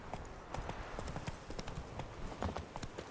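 A horse gallops in The Witcher 3 video game, its hooves beating a fast, steady clip-clop rhythm at moderate volume through the whole stretch.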